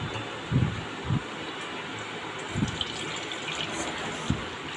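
Milk sweetened with jaggery pours through a strainer in a soft, continuous liquid gush, with a few low muffled bumps from the vessel breaking the steady flow.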